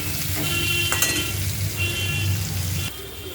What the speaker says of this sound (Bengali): আমার উচ্ছেটা ভাজা হয়ে গেছে